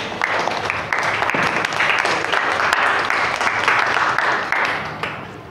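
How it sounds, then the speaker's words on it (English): Applause from a classroom audience of students, a steady wash of clapping holding for several seconds with a few voices mixed in, fairly close and loud. "A round of applause once again for everyone."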